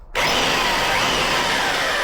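A battery-powered drill spins up suddenly and then runs steadily at a loud, constant whine, close by and alone, in an underground bunker.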